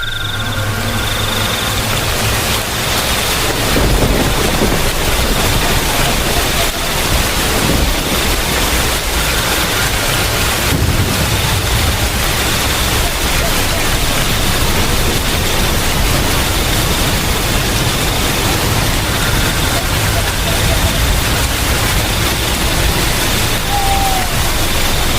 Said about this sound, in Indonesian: hujan deras pun segera turun membasahi bumi